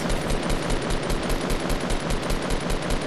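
Fortnite battle royale gunfire fills the scene: rapid, continuous automatic bursts crackle loudly and steadily over dense game noise for about three seconds, with no talking.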